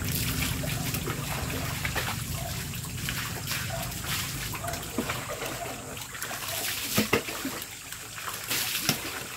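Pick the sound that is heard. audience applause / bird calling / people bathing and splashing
people bathing and splashing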